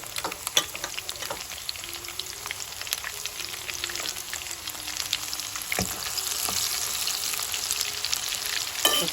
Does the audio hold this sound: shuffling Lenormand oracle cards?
no